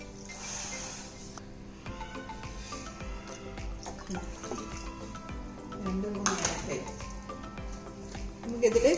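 Water is poured into sugar in a pan to start a sugar syrup for gulab jamun, a hissing splash most prominent at the start and running for several seconds alongside kitchen clatter.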